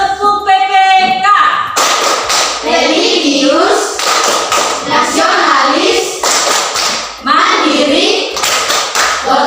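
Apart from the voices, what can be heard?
rhythmic group clapping chant Tepuk PPK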